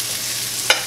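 Flour-dredged steaks searing in oil in a pan, a continuous close sizzle with one brief sharp crackle.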